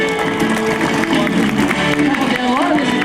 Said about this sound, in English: How about a big round of applause, folks?